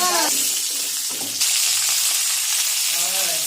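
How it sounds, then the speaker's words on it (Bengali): Whole spices, cardamom and cinnamon, then garlic, sizzle in hot oil after potatoes are lifted out, a steady close frying hiss with brief stirring scrapes and faint background voices. "পাঁচ ফোড়ন দিলাম, একটু ইলাচ দারচিনি ফোড়ন দিলাম, দিয়ে এই রসুনটা দিয়ে দিলাম"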